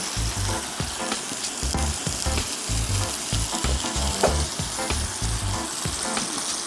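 Ribeye steak sizzling loudly in a hot pan, a constant bright frying hiss with thumps and scrapes as the meat is turned, close up and without voices.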